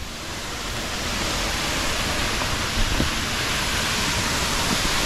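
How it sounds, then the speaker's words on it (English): A waterfall on the Man Cheung Po hiking trail in Hong Kong roars as a steady, dense rush of falling water, loud and close, with a faint thump partway through. "Oh, closer to the waterfall now."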